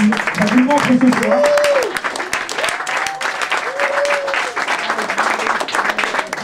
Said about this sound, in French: Je pense que ça mérite encore des applaudissements